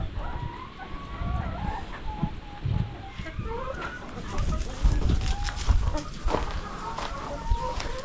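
Native Darag chickens on a farm clucking and calling near and loud, with a rooster crowing among them and a person speaking over the birds.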